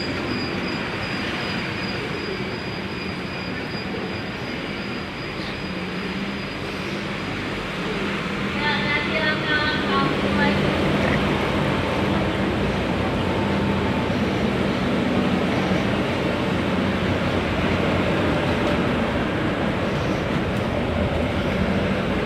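A TransJakarta corridor 11 bus pulls away from Pulo Gebang terminal with a steady, loud rumble heard from inside, growing stronger partway through and continuing without a break.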